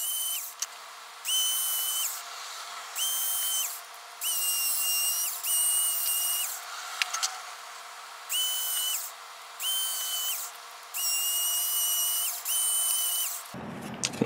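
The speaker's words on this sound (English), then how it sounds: "What you need for them is to drill two holes close to side by side, and then kind of work away the middle." A small high-speed drill bores holes in a circuit board, about eight short bursts of a high whining spin, each lasting roughly a second, separated by brief pauses and heard close up.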